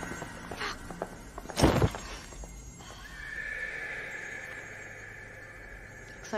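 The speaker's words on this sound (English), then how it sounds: "There's nothing wrong with the horse right now, Comet" A horse whinnies loudly and close in a film scene set in dark woodland, with a sharp neigh followed by a long, wavering call and some hoof clatter underneath.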